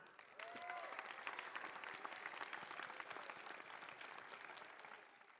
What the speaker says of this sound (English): Let's give our families a round of applause